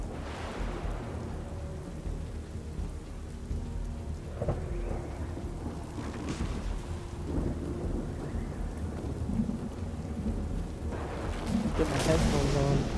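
Steady rain pours with rolling rumbles of thunder in the video game Strayed Lights, the downpour constant throughout and a louder thunder crash building near the end.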